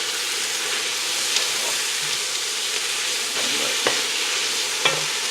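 Cabbage and noodles are stirred in a hot pan, a steady close sizzle with occasional soft scrapes and clicks of the utensil.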